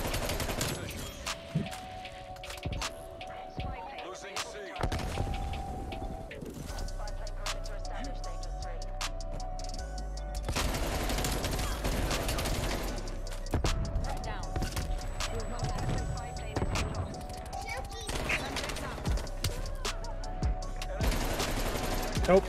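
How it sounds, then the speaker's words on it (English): Sentry gun fire in Black Ops Cold War, a rapid automatic rattle in dense bursts that surges and fades across the stretch, mixed with other gunfire and game effects while a player talks over it. "that's a sentry gun"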